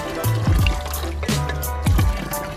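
Water running and splashing from a drinking fountain on the Palatine in Rome, a close trickling pour with gurgling as it fills and spills, no talk over it.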